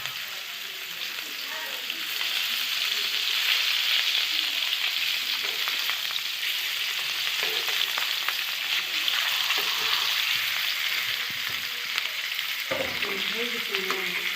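Datina fish frying in a pan with a steady, dense sizzle of hot oil throughout, joined by occasional spatula turns and stirring; a voice speaks faintly near the end.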